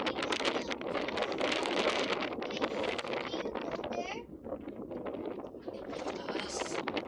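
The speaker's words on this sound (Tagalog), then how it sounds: "Sarap ng hangin." Strong wind rushes steadily across the microphone outdoors in Hong Kong, a loud continuous roar that dips briefly midway and then builds again.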